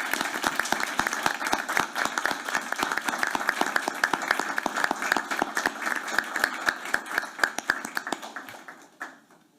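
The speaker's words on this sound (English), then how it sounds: "We give him a big round of applause." An audience at a school board meeting applauds a third-grade student, steady clapping from many hands in a room for about nine seconds before fading out.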